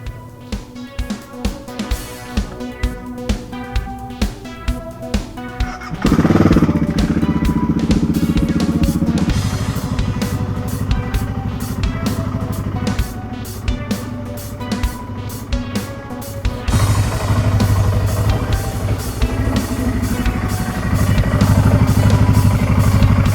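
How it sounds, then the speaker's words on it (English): A BMW F650 GS motorcycle idles with a rhythmic ticking engine pulse, then its radiator fan kicks in, adding a loud steady whir over the idle, close by with no talk. "the fan's just come back on, so it's back to normal operating temperature"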